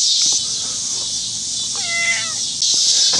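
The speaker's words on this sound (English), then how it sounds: "here is a cat meowing." A cat gives a short meow in the middle, fairly faint, over a steady hissing background noise.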